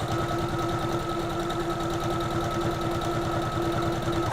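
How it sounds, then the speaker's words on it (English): A sewing machine running continuously while joining circle skirt fabric pieces, a fast steady mechanical chatter with a constant hum, close and loud throughout. "which I am now sewing into one piece, and it will be a circle"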